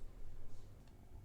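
A single soft computer mouse click, close and quiet, at the end of a brief stretch of faint room noise.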